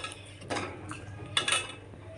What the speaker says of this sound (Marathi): ढवळायचं खूप वेळ म्हणजे दोन तीन मिनटं तरी